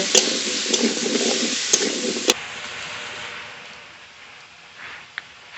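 Vegetables for a kohlrabi and new potato curry are stirred with salt and turmeric in a hot pan. The close sizzle and scraping fade to a faint hiss after a couple of seconds.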